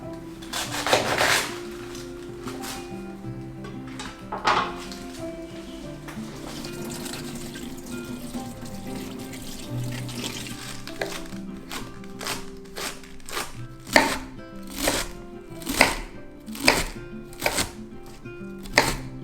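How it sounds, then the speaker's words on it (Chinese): A knife chops washed cabbage into small pieces on a cutting board, with scattered cuts at first and then a run of sharp, close chops in quick succession. "我们把高丽菜洗干净之后呢，切成小碎状。"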